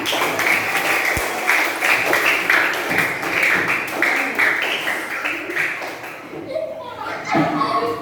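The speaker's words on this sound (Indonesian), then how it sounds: "Terima kasih tepuk tangan." A classroom audience claps together in a sustained round of applause, with children's voices and chatter mixed in, before the clapping fades as talk resumes.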